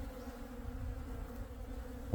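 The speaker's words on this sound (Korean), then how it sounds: "동양종 꿀벌과 서양종 꿀이 뒤섞여 있다." A steady, low droning hum comes from a mix of Western and Eastern honeybees crowded around a hornet trap at an apiary in May. It holds constant and fairly quiet, with no voices.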